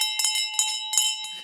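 A handheld bell is rung on a podcast set, giving several quick, bright clangs in an uneven rhythm with a sustained ringing tone underneath, close and fairly loud.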